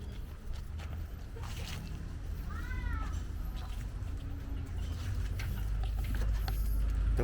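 A single short meow, fairly faint, rises over a steady low hum of background noise with a few distant clatters.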